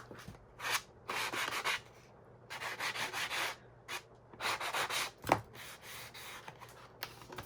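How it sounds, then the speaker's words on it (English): Hand sanding along the edge of a paper triple-pocket folio folder, in short rasping strokes that come in bursts with brief pauses, close and moderately loud, with no talking. "I was going to actually see if I could sand this"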